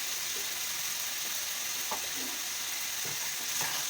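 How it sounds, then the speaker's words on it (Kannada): Fried onions and chopped tomatoes sizzle in a pan, a steady close hiss broken by a few light scrapes of stirring. "ಇವಾಗ ಈರುಳ್ಳಿ ಫ್ರೈ ಆಗಿದೆ ಇವಾಗ ಟೊಮೊಟೊ ಹಾಕೋಣ"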